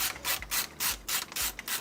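A ratchet tightens a component down during a white PC build, giving close, crisp bursts of clicking in a steady back-and-forth rhythm, about six strokes with short gaps between them and no voices.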